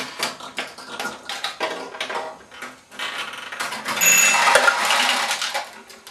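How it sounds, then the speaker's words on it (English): A Nishijin pachinko machine shoots balls, a dense, steady patter of metallic clicks and tapping rattles that swells into a brighter, busier clatter with ringing chimes toward the end. "the first time you shoot, when you load the machine, nothing will happen because it's actually loading a ball into the shooter lane."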